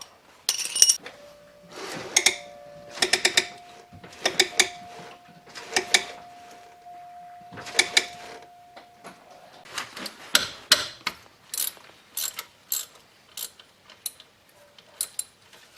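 A wrench works a wheel hub bolt loose during a wheel bearing and hub assembly job, giving a series of sharp metallic ratcheting clicks in short bursts, close and loud, with a faint steady whine beneath the first half.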